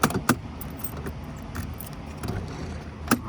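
Keys jangle on a ring holding the factory key for a 1995 GMC Yukon 1500, giving a few sharp metallic clinks in brief bursts over a faint, quiet background.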